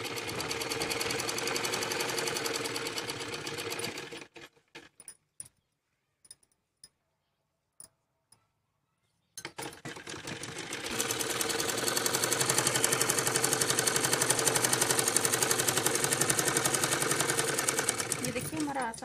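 A sewing machine stitches a full-flared Punjabi Patiala salwar in fast, rhythmic bursts. Its steady clatter runs for several seconds, breaks into a gap of a few short ticks, then resumes and continues close and loud.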